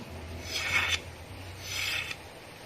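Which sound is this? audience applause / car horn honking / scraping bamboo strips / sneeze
scraping bamboo strips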